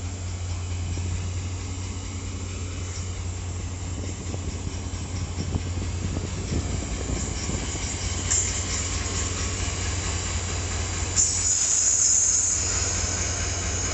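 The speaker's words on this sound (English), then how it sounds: "Let's watch the train go." FrontRunner commuter train passing at a station, a steady low rumble of rolling cars with hiss and a brief high wheel squeal near the end, moderately near.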